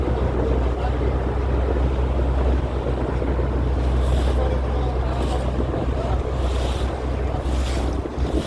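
A small speedboat sea taxi runs across open water, its motor a continuous low drone under steady wind buffeting and wave wash, heard from on board with no pauses.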